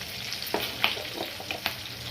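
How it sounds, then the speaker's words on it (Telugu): Curry leaves, green chillies and a pinch of asafoetida frying in a tempering pan, a steady low sizzle punctuated by a few sharp crackles and pops, fairly close and with no voices. "కరివేపాకు, పచ్చిమిర్చి, కొద్దిగా ఇంగువ వేసుకొని ఫ్రై చేసుకోవాలి."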